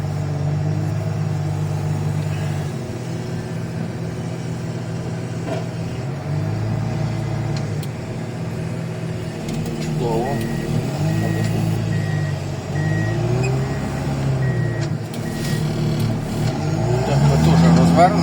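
A MAZ truck pulls in to a loading point, its diesel engine droning steadily while a repeating reversing beeper sounds partway through, with people talking in the background throughout.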